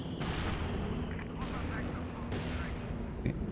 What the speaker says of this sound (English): The bunker busting barrage.